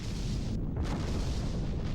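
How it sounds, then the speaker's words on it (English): Explosions bursting from the top of a tower in the DRAMAtical Murder visual novel, a broad, sustained rumbling roar of blasts with falling debris, loud and steady with a brief dip partway through. "Explosions burst from the top of the tower, and debris fall to the ground down below."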